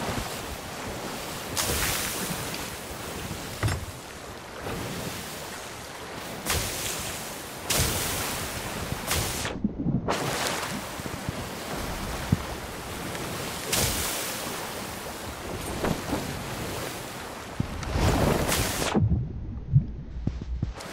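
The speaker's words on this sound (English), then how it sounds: "Damn, these waves are big as hell." Big ocean waves breaking repeatedly around a sailing boat, each crash a loud rushing surge of spray followed by a hiss, mixed with gusty wind buffeting the microphone, with no one speaking.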